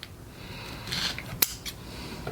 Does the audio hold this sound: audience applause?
no